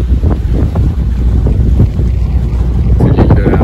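A sailboat motors under engine on open sea between Guadeloupe and Marie-Galante, heard as a constant loud low rumble mixed with heavy wind buffeting on the microphone and irregular wave splashes.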